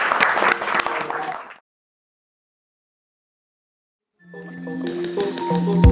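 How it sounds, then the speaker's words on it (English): Audience applause at a young writers' camp gathering, a burst of clapping that stops into silence, then returns with a rising crowd mix of clapping and tonal sounds. "can we have a round of applause for Jeff and Jack?"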